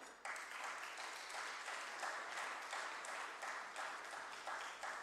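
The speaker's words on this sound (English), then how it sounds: "And now please help me invite with a round of applause, CA Ganesh Agarwal" An audience applauds at a stock exchange listing ceremony for Fascinate Textiles Limited, with a steady wash of clapping throughout that is moderately loud but somewhat distant.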